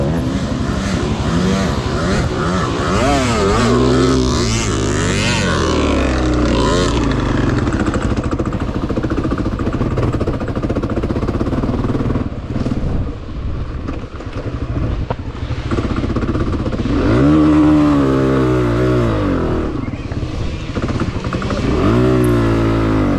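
Honda CRF250F dirt bike engine lugging at very low revs during a hare scramble race with a mechanical failure, a continuous loud close drone that rises and falls over the whole stretch.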